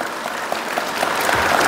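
Clapping from a crowd at a public gathering in Tripura, a dense, steady patter of many hands at close range, rising slightly in loudness toward the end.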